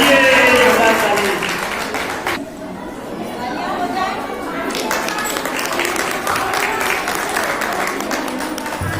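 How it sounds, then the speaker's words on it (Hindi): Clapping from an audience at a ladies club installation event, mixed with a busy murmur of crowd chatter, briefly dipping before steady applause and voices continue together. "जोरदार ताली।"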